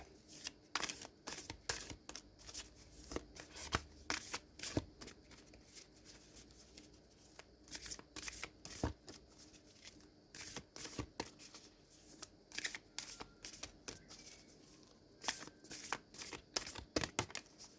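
An Angels and Ancestors oracle card deck shuffled by hand, soft repeated riffles and card slaps in an uneven rhythm across the whole stretch, quiet and close with no talking.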